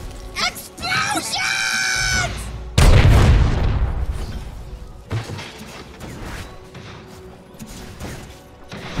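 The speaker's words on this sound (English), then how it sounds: "Explosions!" Explosions from Techies mines in a Dota 2 match, a heavy booming blast with a rumbling tail following game voice lines and effects, then scattered crackling hits and softer in-game sounds.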